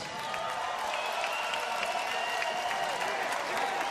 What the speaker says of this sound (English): Ladies and gentlemen, big round of applause both these fighters.